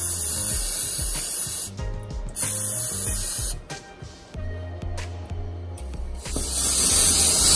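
Brake cleaner aerosol sprayed in long, loud, close hissing bursts along a car throttle body, with short pauses between sprays and a final sustained blast.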